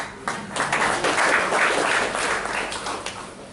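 An audience at a spiritual talk applauds in a steady, moderately loud wash of clapping that swells in the middle and holds for a few seconds before easing slightly.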